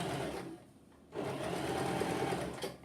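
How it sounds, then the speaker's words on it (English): Sewing machine stitching a short run of fabric for hosen, a steady close mechanical whir that pauses briefly, then resumes for a couple of seconds, with no talking. "I'm going to sew a tiny bit"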